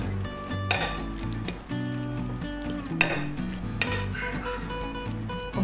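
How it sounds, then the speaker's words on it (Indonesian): A spatula stirs a seasoned chicken mixture in a metal pan, with repeated scraping, clinks and knocks against the pan over a soft background sizzle, close and steady with no talking. "Kita aduk rata."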